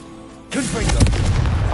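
The Confringo blasting spell in Hogwarts Legacy goes off as a sudden loud booming burst with a whooshing tail that rumbles on to the end.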